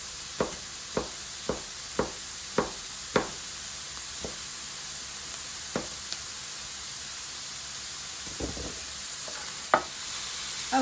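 A whole garlic bulb sautés in a pan for Italian pasta and beans, giving a steady low sizzle broken by about a dozen sharp spoon knocks and scrapes, evenly spaced at first and then sparser.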